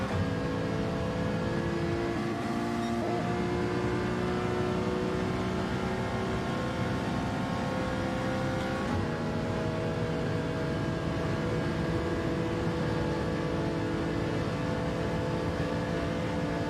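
A GTR race car engine in the Gran Turismo 7 racing game drones loudly and continuously, its pitch rising and shifting as the car closes in, with no talk over it.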